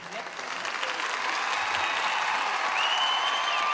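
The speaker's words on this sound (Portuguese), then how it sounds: "quero que vocês aplaudam com muito carinho" A studio audience applauds the singing duo Jeter e Michel on a Brazilian country-music TV show. The clapping swells quickly into a dense, steady ovation that holds loud to the end, with faint voices mixed in.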